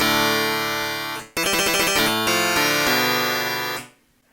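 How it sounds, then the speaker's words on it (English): Harpsichord patch on a Korg Volca FM synth: a sustained bright chord gives way to rapid plucked, twangy notes running in quick succession, then a held chord that decays away, clear and up front with no talking. "I kind of like this harpsichord patch."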